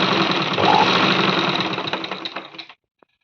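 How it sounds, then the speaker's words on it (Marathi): Electric sewing machine running steadily while stitching the back neck edge of blouse fabric, a continuous close whirring hum that slows and stops near the end, then silence. "तर आता आपण याला चारही बाजूने शिलाई न करता खालच्या साईडने व गळ्याच्या साईडने शिलाई देऊन घेऊ."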